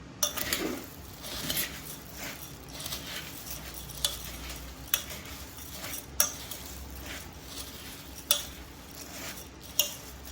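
Homemade bhelpuri with puffed rice, chopped onion and tomato being stirred, soft scraping and rustling with sharp clinks of a spoon against the bowl at regular intervals.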